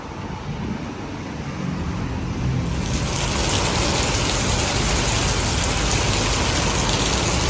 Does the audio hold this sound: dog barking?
no